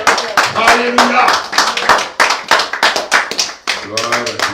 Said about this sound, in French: Est-ce qu'on peut donner des acclamations ce matin?